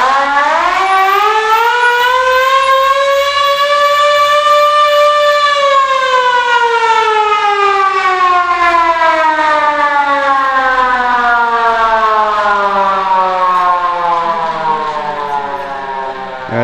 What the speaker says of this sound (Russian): Evet, buradan nükleer sirenleri de kendiniz çalıştırabiliyorsunuz.